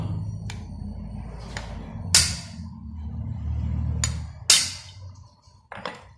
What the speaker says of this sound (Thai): เอาค้อนเคาะ